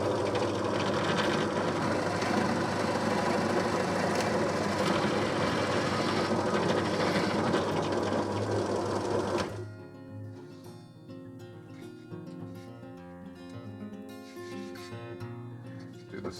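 Drill boring a 25mm hole through wood for a Craftsman-style lantern, a loud steady whine for about nine seconds that then cuts off, leaving a fainter hum with scattered light clicks.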